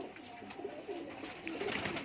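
Lakha pigeons in a village loft in Ladwana, Nankana Sahib, give soft, low cooing in short repeated phrases, fairly faint against a steady background hiss.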